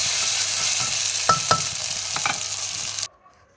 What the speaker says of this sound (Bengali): পেঁয়াজটাকে তেলের সঙ্গে খুব ভালোভাবে ভেজে নেব।